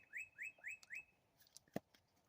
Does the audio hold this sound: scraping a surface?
no